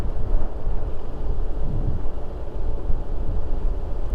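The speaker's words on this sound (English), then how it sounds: "Oh, it's so windy out here. It's about 20-mile-an-hour winds." Strong wind of about 20 mph blows outdoors, buffeting the microphone with a constant, loud, low rumble and no talk.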